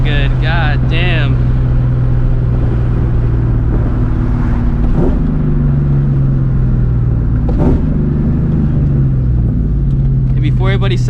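A 1999-2004 New Edge Ford Mustang GT V8 engine rumbling and revving on the road, a deep steady drone with short pitch changes at shifts, heard close and loud throughout.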